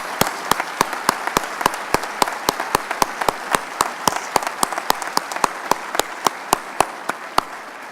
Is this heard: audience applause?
yes